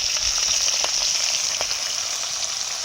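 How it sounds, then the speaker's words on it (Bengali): Khoira fish sizzle and spit steadily in hot oil in a pan, a loud, continuous bright hiss with a few sharper pops, and no voices. "কয়রা মাছগুলো ভেজে নিচ্ছি আগে"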